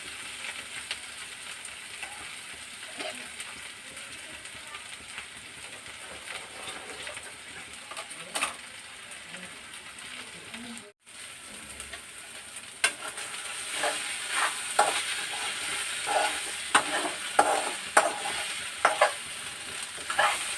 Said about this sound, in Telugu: కొంచెం కూడా మాడకుండా మనం ఫ్రై చేసుకోవాలంటే ఇలా కొంచెం దగ్గరుండి అప్పుడప్పుడు మధ్యలో కలుపుతూ ఉండాలన్నమాట